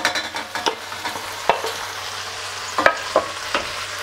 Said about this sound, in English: You then give it a stir, so be gentle.